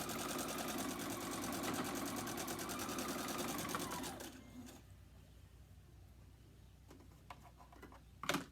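A sewing machine stitches a mini quilt in a steady, rapid run for about four seconds, then stops, leaving a quiet room with a few faint ticks and clicks near the end.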